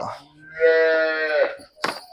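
A cow lets out a long, loud moo with a drawn-out tonal call at a village cattle sale in Punjab, followed by a short rustle or thump at the end.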